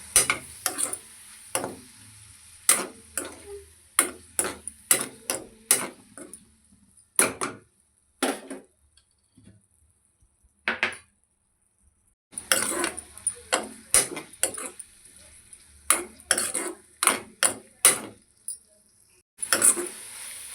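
Tomatoes and green chillies fry in a pan, with repeated sharp scraping and stirring strikes of a utensil against the pan, in clusters with a quiet pause midway, no talking.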